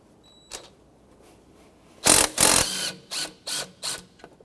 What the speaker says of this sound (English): I'm going to loosen the top one first